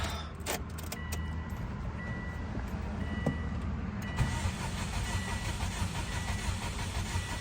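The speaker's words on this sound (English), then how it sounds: "I unplug the crank sensor, and then I go ahead and I crank it" A 2004 Subaru WRX engine is cranked over on the starter with the 15 amp ignition fuse pulled, so it never fires. The cranking is a steady, continuous mechanical churn, close and fairly loud, with a brief metallic jingle near the start.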